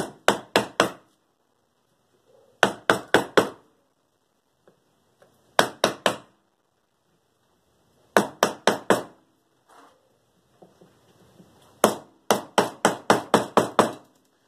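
A one-inch wood chisel struck with a hammer as it carves a recess for a flush handle: sharp, close knocks in quick bursts of three to six blows, separated by quiet pauses.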